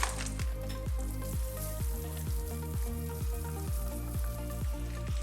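Cashews and raisins fry in hot ghee in a pan while biryani is being made, a steady close sizzle and crackle running throughout with no talking.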